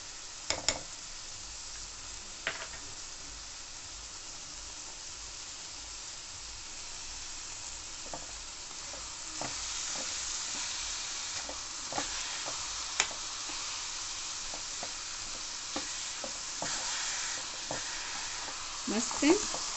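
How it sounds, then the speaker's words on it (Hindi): Carrot halwa frying in ghee in a pan, a steady close sizzle throughout with scattered clinks and scrapes of stirring. "जो मैंने घी बचा के रखा था, अब इसे लास्ट पे इसे ही डाल देंगे।"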